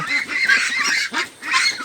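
Loud, nasal honking calls from nearby Pekin ducks, several quick squawks in a row with a brief pause before more.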